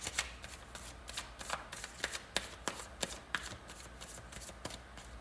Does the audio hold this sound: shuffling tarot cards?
yes